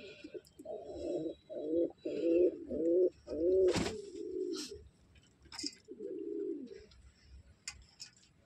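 Pigeons in a loft, kept for sale, give a close run of deep rhythmic coos in repeated phrases, then a short pause and another coo, with faint rustles behind them.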